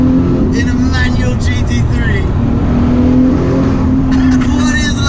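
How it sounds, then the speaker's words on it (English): A manual Porsche 911 GT3 supercar driving in convoy gives a steady, loud engine drone throughout, with higher engine tones rising and falling over it and a voice speaking briefly in the middle. "Blasting in a supercar convoy with a mate"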